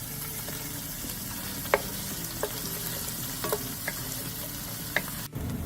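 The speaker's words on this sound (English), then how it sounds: "Two chopped shallots. We're going to saute them for 2 to 3 minutes." Chopped shallots sizzle steadily in a hot pan while being stirred, a dense, even fry with a few sharp scraping clicks from the utensil and no voices.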